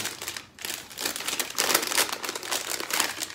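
Nearby crinkling of plastic packaging around yarn, a continuous crackly rustle that swells and fades in uneven bursts, with no talking.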